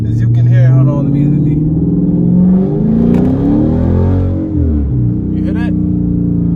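A modified Dodge Charger or Challenger R/T V8 revs loudly in repeated throttle blips meant to mimic a Hellcat, a deep rumbling roar rising and falling close by with a voice talking over parts of it.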